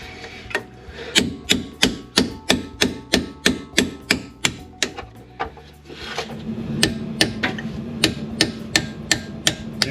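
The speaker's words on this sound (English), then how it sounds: "gonna hammer in at an angle with the chisel here, there, and everywhere, making sure not to touch the housing" A hammer drives a chisel to knock out the axle shell on a Foxbody 8.8-inch rear axle: about twenty loud, evenly spaced metal strikes, followed by a continuous grinding, rasping scrape.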